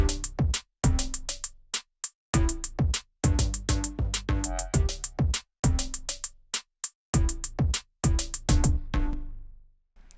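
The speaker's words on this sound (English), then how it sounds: "What I'm gonna add here is a bass one shot and a whomp" A hyperpop beat with a bass one-shot and a whomp from the Cashmere sample pack layered over punchy drums, a dense, loud, driving rhythmic loop with short dropouts, ending in a decaying tail.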